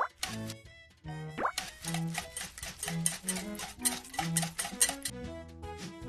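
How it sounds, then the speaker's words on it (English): Berry batter stirred in a mixing bowl in a cartoon kitchen, a series of wet plopping, squelching strokes in an uneven rhythm, close and fairly quiet, with no voices. "Let's give it another stir."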